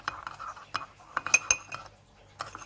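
A spoon stirring cappuccino coffee mixture in a cup, a run of close, light clinks and scrapes against the cup in an uneven rhythm, with brief pauses between.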